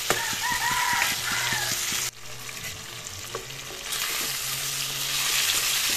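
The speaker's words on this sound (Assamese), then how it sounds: "এনেদৰে 5 মিনিট সময় মই মাছখিনি ভাজি ল'ম" Boroli fish pieces frying in oil in a pan, a loud continuous sizzle with rhythmic stirring scrapes, briefly dropping in level midway before building again; a rooster crows faintly in the distance.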